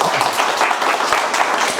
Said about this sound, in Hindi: एक बार जोरदार ताली बजा दो भैया सब